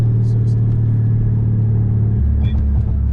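A Dodge 392 Hemi V8 rumbles loud and close from inside the car during a street race, a deep steady engine drone that shifts pitch partway through, while someone talks over it.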